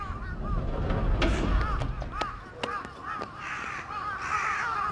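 Several crows in a video game caw repeatedly and fairly close, harsh overlapping calls in quick succession over low game ambience.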